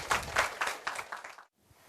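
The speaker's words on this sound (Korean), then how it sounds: "박수 좀 해주세요." A small audience claps at an indoor campus information session, a short scattered burst of hand claps that fades out within about a second and a half.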